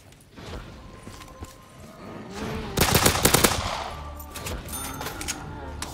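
Pistol fire in Black Ops 3 custom zombies, a quick cluster of sharp shots in the middle over busy game ambience, with a few scattered clicks and hits around it.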